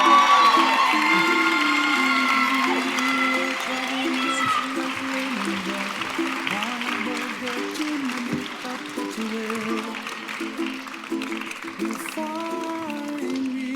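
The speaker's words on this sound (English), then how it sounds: "Please join me in another round of applause." Graduation audience at the SAIS Europe 2025 commencement applauding and cheering, sustained clapping and whoops with music-like tones over it, steady and fairly loud throughout.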